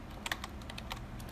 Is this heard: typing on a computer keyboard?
yes